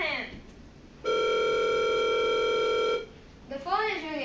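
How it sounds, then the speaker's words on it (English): A steady electronic telephone tone holds for about two seconds, loud and continuous, after brief background voices; chirpy sounds follow. "The phone is ringing."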